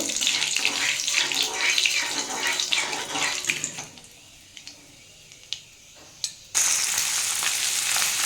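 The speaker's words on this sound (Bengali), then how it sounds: "আমি এর মধ্যে একটু শুকনো লঙ্কা ফোড়ন দিলাম আর একটু কালো জিরে হাতে গজে দিয়ে দিলাম ফোড়নটা একটু ভেজে নেব" Dried red chillies and black cumin seeds crackle in hot oil for a tempering, with a loud busy sizzle that drops away midway, a few sharp pops, and then a renewed burst.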